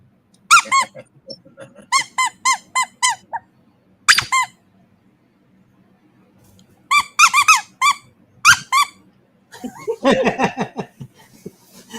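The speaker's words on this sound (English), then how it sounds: "I heard a squeaky toy and I never saw it." A squeaky toy squeezed in rapid bursts of several sharp squeaks, loud and close, with pauses between bursts and laughter near the end.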